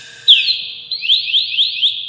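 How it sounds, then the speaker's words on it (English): A firefighter's PASS device alarm goes off alone: one rising electronic whoop, then a rapid series of repeated upward-sweeping shrill chirps, loud and close. "he can set off his pass device"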